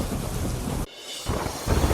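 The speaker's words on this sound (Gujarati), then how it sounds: "વાદળછાયા વાતાવરણ બાદ શરૂ થયો વરસાદ." Monsoon rain pouring down in a city street, a loud dense hiss of heavy rainfall broken by a brief cut before resuming, with low rumbling underneath.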